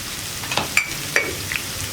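Onions and green chillies sautéing with salt in a pan give a few sharp scrapes and clicks from stirring over a faint sizzle, three distinct knocks in under two seconds, close and alone.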